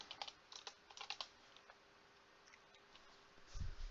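Fast, irregular clicks of typing on a computer keyboard, close and fairly quiet, in short clustered bursts with brief pauses and a low thump at the end.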